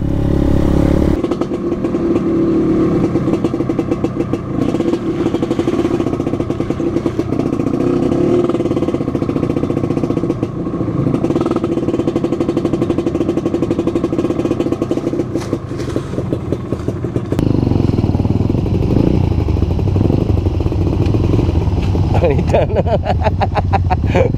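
A motorcycle engine drones and revs steadily throughout, with clattering and rattling as it rides over a rough, muddy mountain trail, voices talking over it.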